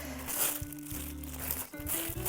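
Close crinkling and crumpling of paper towels, rustling in short bursts with a background hum.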